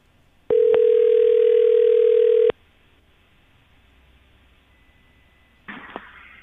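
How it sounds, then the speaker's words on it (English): Telephone line on a morning radio show, a loud two-second steady ring tone with a click at its start, then near silence before a short burst of line noise. "when it rings, answer your phone."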